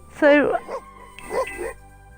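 Dog yips and whimpers from The Sims, a short high-pitched burst followed by softer whining tones over a faint background hum.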